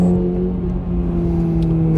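A 2024 Acura Integra Type S four-cylinder engine pulling toward its 7,000 rpm redline, a loud sustained revving tone heard close and steady for a couple of seconds with no talking.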